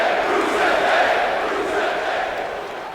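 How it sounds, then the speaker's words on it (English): A large wrestling crowd roars and chants "Rusev Day" in unison, a loud sustained wash of voices that eases slightly toward the end. "And the crowd chanting Rusev Day."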